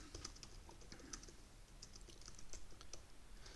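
Steady, quiet clicking of a computer keyboard while typing a code comment, a continuous rapid patter of keystrokes close by, no talk.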